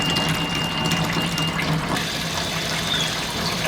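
Steady running water rinses pickled rabbit hides under a tap or flow, a continuous broadband wash with no pauses.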